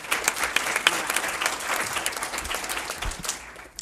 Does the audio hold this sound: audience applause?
yes